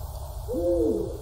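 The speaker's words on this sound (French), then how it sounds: "C'est juste le cri d'un hibou. Le grand-duc d'Europe." A Eurasian eagle-owl gives a single deep, wavering hoot lasting about half a second, clear and alone over a steady low background rumble.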